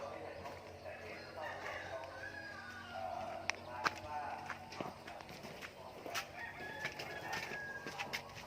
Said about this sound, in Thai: เอาหัวอาหารให้ไก่กัน